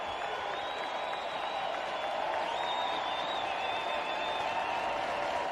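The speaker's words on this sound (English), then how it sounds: "Here comes this afternoon crowd." An afternoon crowd at a Mets versus Tigers baseball game applauds and cheers, a distant, fairly faint wash of clapping and voices that holds steady throughout.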